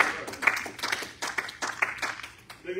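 A church congregation claps in a loose, uneven burst of hand claps at moderate distance, fading in and out over a few seconds with faint voices mixed in.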